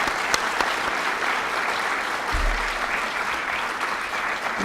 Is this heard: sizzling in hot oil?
no